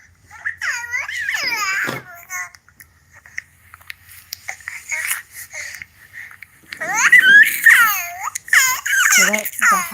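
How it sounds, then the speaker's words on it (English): A reborn baby doll sounding off with happy infant yells, babbling and giggly laughter in two bursts, loud and close, rising in pitch and growing busier toward the end. "So that's the happy, yells, and laughing."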